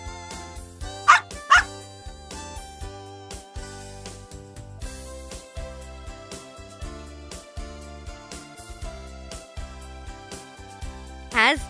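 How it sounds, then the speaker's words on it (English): A dog gives a few sharp barks early on and another near the end, heard over steady background music. "Dog."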